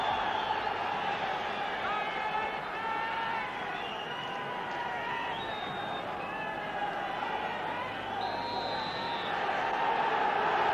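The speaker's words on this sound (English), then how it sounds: "Huge crowd inside Tannadice as Rapid Vienna start the match" A huge football crowd roars inside Tannadice stadium for Dundee United against Rapid Vienna, a dense, steady wash of distant cheering and chanting with a commentator talking over it.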